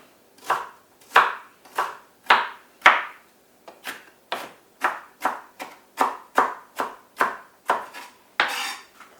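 Half an onion being sliced finely with a knife on a board, about fifteen crisp, evenly spaced chopping taps, close and clear with no talk.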